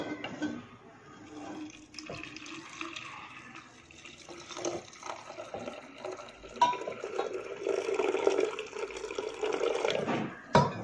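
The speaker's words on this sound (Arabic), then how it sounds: "نص لتر ميه مغليه هحطها على المكون بتاعنا كده" Half a liter of boiling water poured over cinnamon, ginger and green tea in a kitchen, a steady close liquid stream splashing for several seconds and growing fuller toward the end.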